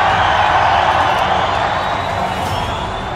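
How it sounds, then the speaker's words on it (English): A wrestling arena crowd roars in a steady, loud, continuous wash of cheering and shouting that holds at nearly constant intensity throughout, with no distinct voices standing out. "The roar of the crowd."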